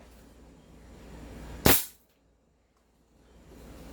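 A single sharp crack from a Tokyo Marui airsoft pistol fired through a chronograph, one loud isolated shot in a quiet room followed by near silence.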